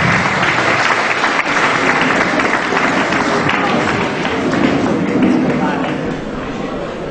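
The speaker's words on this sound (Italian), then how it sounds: "e un applauso a tutti quanti per la partecipazione" An audience at the inauguration of a children's town council applauds all participants, a long continuous burst of loud, dense clapping that eases slightly near the end, with a few voices beneath.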